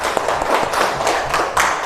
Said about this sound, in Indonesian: Mari kita tepuk tangan, semangat belajar ya